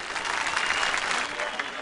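An audience bursts into steady, dense applause to welcome a singer onto the stage at a Turkvision 2010 song contest broadcast, a continuous loud wash of clapping with no pause.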